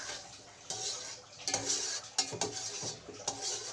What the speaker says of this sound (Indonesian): Kita sambil aduk juga.